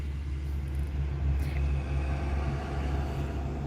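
A low, steady rumble fills the interior of a moving car, a constant road and engine drone with no speech over it.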